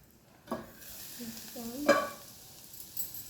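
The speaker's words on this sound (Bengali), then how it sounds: "দেখুন কত সুন্দর শুকনো শুকনো ঝরঝরে ভাজা হচ্ছে।" Bottle gourd peel dry-frying in a pan, with a soft steady sizzle, a few stirring scrapes and clinks, and a louder clatter near the middle, heard close and alone.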